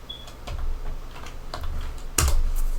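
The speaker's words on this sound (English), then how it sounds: "if we type in our npm init" Close, crisp keystrokes on a computer keyboard come in quick irregular bursts as a terminal command is typed, ending in a louder thump like a final key press.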